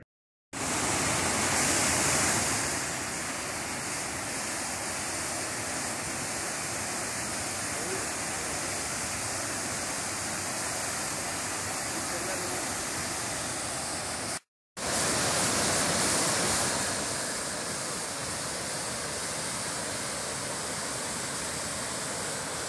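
A waterfall at Wyra Reservoir in Khammam pours with a dense, constant rushing roar. The water is loud and close, and the roar is interrupted once by a short cut partway through.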